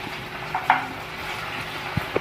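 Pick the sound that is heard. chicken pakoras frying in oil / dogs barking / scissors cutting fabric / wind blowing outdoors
chicken pakoras frying in oil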